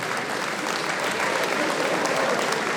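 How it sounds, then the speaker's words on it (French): Sustained, dense applause from an audience at a 10 km running race podium ceremony, steady and loud throughout with no talk over it. "on peut applaudir bien plus fort que ça"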